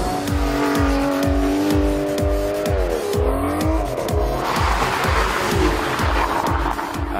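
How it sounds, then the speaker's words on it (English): An Aston Martin Vantage S V12 in sport mode accelerates hard, its engine climbing through the revs with fast, loud pulsing and a shift partway through, alongside tire squeal. "The Vantage S, once you put it into sport mode, it really takes off."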